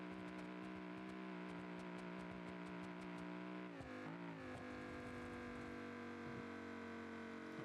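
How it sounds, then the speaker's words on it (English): A truck motor runs steadily at a constant hum, fairly faint, shifting pitch briefly partway through before settling back into an even drone. "We heard the motor."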